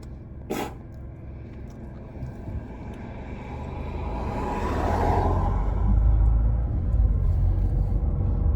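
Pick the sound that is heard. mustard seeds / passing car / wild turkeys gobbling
passing car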